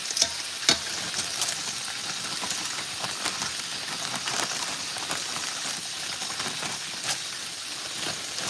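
Dredged pieces of Cornish hen frying in hot oil, a steady dense sizzle and crackle with a few sharper pops, close and continuous with no voices.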